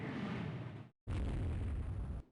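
In the naval game Rule the Waves 3, 7-inch and 3-inch shells strike a warship: two heavy explosive booms, the first cut off abruptly, the second sustained and loud.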